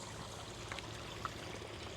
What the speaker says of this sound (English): With this little stream that it has running around